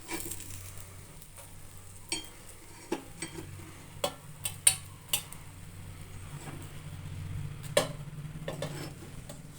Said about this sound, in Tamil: முட்டை திருப்பி வச்சு நல்லா வேகட்டும்